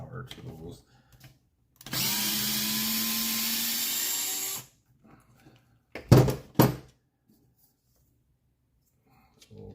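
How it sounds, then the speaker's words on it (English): A power tool whirs in one continuous burst of a few seconds while a part is taken off an RC car, close and steady, framed by small clicks and handling noises. "I'm going to take this thing out with the power tools."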